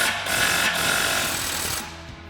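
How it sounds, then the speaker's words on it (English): Impact wrench with a 15mm socket loosening an exhaust clamp on an EcoBoost F-150, a loud continuous rattling hammer for about two seconds before cutting off. "we're going to grab our 15mm socket on our impact and loosen this up"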